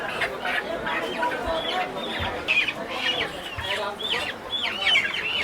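Chickens at a market clucking and squawking repeatedly in a busy, irregular chorus, close by, with people talking underneath.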